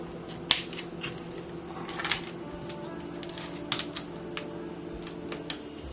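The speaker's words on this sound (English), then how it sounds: "Okay, so now we're going to cut this cauliflower." A knife cuts through a head of cauliflower on a kitchen board, giving a run of sharp crisp snaps and crunches at close range, spaced irregularly over a low steady background hum.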